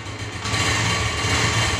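A vehicle engine turns over and catches, then settles into a steady running hum, near and fairly loud after a brief quieter start.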